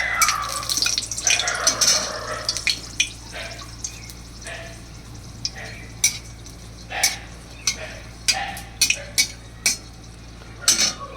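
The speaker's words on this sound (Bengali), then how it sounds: "কড়াইতে তেল দিচ্ছি, এর মধ্যে আমি কি করব, 2টো শুকনো লঙ্কা আগে ভেজে তুলে নেব" Two dried red chillies fry in oil in a wok, a soft sizzle under sharp clinks and scrapes of a utensil stirring against the pan, with a faint hum in the background.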